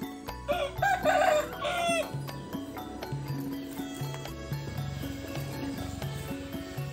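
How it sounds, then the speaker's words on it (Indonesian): A rooster crows loudly near the start in a remote village in the morning, followed by a rhythmic, melodic background of music and ambient sound. "Suara kokokan ayam."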